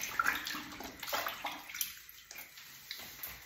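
Running tap water splashing over hands at a sink while washing up after opening a durian, a steady wash of water with a few louder splashy bursts, close by and with no talking.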